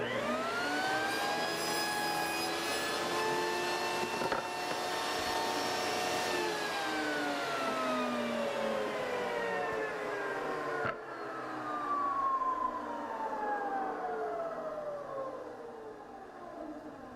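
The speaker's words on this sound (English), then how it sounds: "cut a piece off the end, get a nice square edge, and then cut this to length" Power saw slicing a wooden backrest piece for a Shaker bench in a garage workshop, squaring the end and cutting to length; a loud, sustained whining cut with rising and falling pitch that dips briefly near the middle, then winds down.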